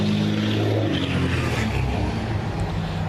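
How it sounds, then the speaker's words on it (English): Heavy diesel vehicles pass on a nearby road, a loud continuous engine roar with deep low rumble that swells early and then gradually eases as the traffic moves on. "Local hillbillies with loud diesels driving by"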